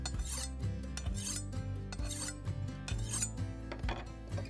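Kitchen knife drawn across a waxed diamond sharpening stone in about five rhythmic rasping strokes, quiet and close, over a low steady tonal background.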